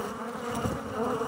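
Dense, steady buzzing of honeybees as a frame is shaken into the hive, a close swarm hum throughout.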